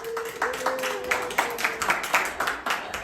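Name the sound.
applause for a child during owl lesson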